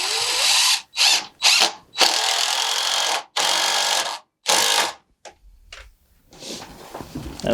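A power drill drives one big screw into the corner of an Outsunny 4x6 greenhouse frame, with loud close whirring in repeated bursts broken by short stops, ending in quieter rattling.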